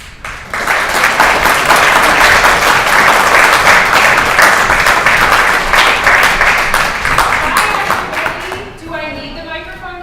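A big room at a Jewish Federation annual meeting fills with sustained audience applause welcoming a speaker, dense and loud for several seconds before fading as a voice begins.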